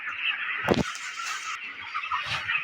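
A crowded flock of 26-day-old broiler chickens clucks and chatters continuously nearby, with one sharper squawk standing out.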